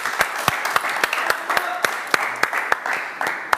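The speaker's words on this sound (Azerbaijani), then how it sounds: "Alqışlar verin." Applause from a television studio audience, with sharp individual hand claps standing out in an uneven, close rhythm over a softer crowd clapping bed.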